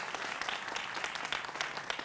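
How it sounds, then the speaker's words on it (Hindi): Studio audience applause for guests on a televised political debate show, dense steady clapping at moderate, slightly distant level, no voices. "तो जोरदार तालियां होनी चाहिए"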